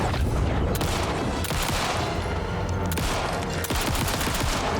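Automatic pistol fire in the Alan Wake 2 video game crackles in dense rapid bursts, loud and close, running almost continuously with a few sharper cracks standing out.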